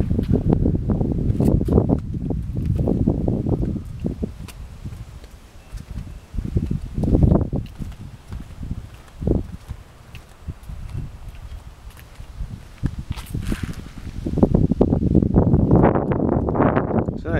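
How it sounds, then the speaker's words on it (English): Wind blowing outdoors on a hot day in Orlando, Florida, gusting in uneven rumbling surges that swell and fade, loud and close against the microphone with no talking. "Nice day, nice and windy."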